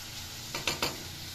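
Jaggery modak filling is stirred in a pan over a medium gas flame: two or three short scraping strokes rise over a faint, soft sizzle, with nothing else happening.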